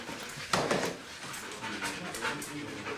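A police detection dog pants in short, breathy bursts close by, with a louder burst of huffing near the start, then steady quieter breathing and faint shuffling.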